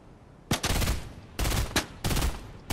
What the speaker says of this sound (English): It's me shooting at me.